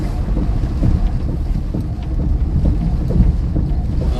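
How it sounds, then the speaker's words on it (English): Heavy rain pounds steadily in an Iowa thunderstorm with low rumbling thunder and gusty wind buffeting the microphone, a dense, continuous storm roar without voices. "We got some heavy rain. Pretty heavy thunderstorms going on right now."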